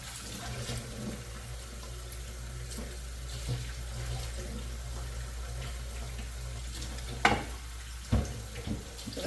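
Tap water runs steadily into a sink for washing spinach, a soft continuous hiss with a few splashes and clinks of handling toward the end.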